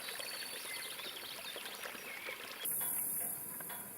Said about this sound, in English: It's where we actually cross through the water on this stone crossing.